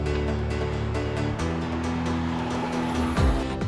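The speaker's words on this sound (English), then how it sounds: "if you haven't experienced the amazing acceleration of an electric car, well, here on the auto show floor," An electric car accelerates on an auto show floor, a dense, loud rushing roar with low whine layered through it, steady for several seconds and swelling briefly near the end, no talk.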